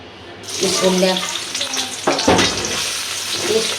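Hot oil sizzles in a kadai before a rui fish curry is cooked, a steady close frying hiss with brief utensil clatter partway through.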